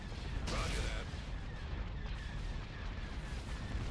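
Cannon barrage in a Star Wars space strategy game, heavy booming artillery-like blasts with a sharp report early on, set under steady rumbling battle noise and a voice speaking.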